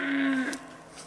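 Cattle on a farm give a single loud, drawn-out moo that lasts about half a second, rising then fading. Quiet outdoor ambience follows it, and nothing else is heard.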